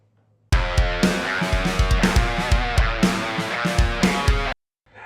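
Heavily distorted, oversaturated guitar through a Marty Friedman signature SansAmp pedal chugs in a fast rhythmic riff of repeated palm-muted hits, loud and dense, starting and stopping abruptly.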